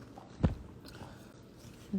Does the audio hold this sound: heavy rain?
no